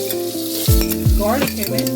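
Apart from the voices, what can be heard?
zucchini sizzling while stir frying in pan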